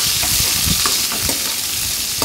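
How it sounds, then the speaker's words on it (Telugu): Chopped onion, green chilli and curry leaves fry in a pan with a loud, continuous close-up sizzle, broken by soft scraping stir strokes. "మనం తరిగి పెట్టుకున్న ఉల్లిపాయ, పచ్చిమిరపకాయ, కరివేపాకు వేసేసుకుని ఫ్రై చేసుకుందామండి."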